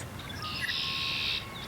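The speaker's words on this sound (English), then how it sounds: "The male red-winged blackbird is a conspicuous fellow" A male red-winged blackbird gives a single buzzy, trilling call from a perch. The call is fairly faint and carries over quiet background noise.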